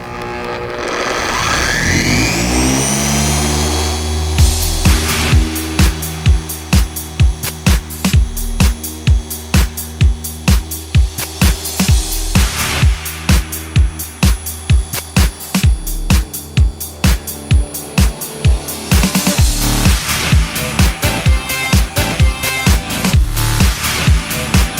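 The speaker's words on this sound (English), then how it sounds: "I'm going to bump it up to the speed setting 6 as fast as it'll go to cut down all this swirls and scratches and oxidation." Dual-action car polisher run at top speed setting 6 with cutting compound on black automotive paint, a loud steady motor whine with rapid rhythmic pulsing throughout, no talking.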